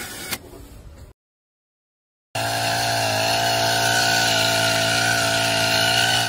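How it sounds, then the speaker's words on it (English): An electric tension wrench ties knots on rebar, first with a brief rattle, then silence, then a loud, steady, high-pitched motor whine that holds on continuously. "This electric tension wrench makes hard work feel easy."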